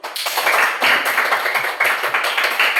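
A class of students claps for a group that has just performed in a school arts lesson on imitating characters, a dense, steady patter of many hands that swells, dips briefly and continues, close and loud.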